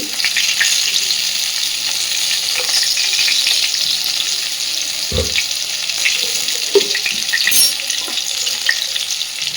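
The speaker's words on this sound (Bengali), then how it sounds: "মাঝখানের যে তেলের অংশটা তার মধ্যে দিয়ে দিচ্ছে অল্প পরিমাণে একটু ঘি" Ghee added to hot oil in a pan beside pointed gourds, giving a steady, close sizzle and crackle with occasional spatula knocks and scrapes breaking through.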